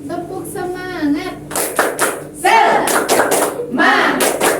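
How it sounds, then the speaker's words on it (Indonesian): A school class stands and performs the Indonesian rhythmic spirit clap, tepuk semangat, with loud bursts of hand claps in a patterned rhythm mixed with children's and a teacher's chanting voices, close and lively. "sekarang kita tepuk semangat dulu"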